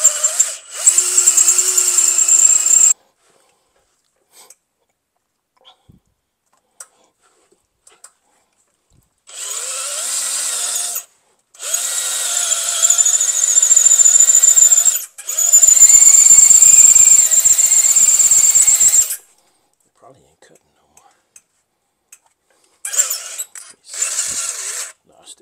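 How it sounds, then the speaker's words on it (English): A power drill whines loudly in several bursts of a few seconds each, separated by quiet pauses, with a high steady motor pitch, drilling into a brake part. "Even though this just drill ain't that strong, it'll jack your wrists up."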